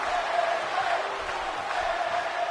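A wrestling crowd in Buffalo cheering for Bayley, a sustained arena roar with whoops and shouts rising and falling, heard at a distance and steady throughout.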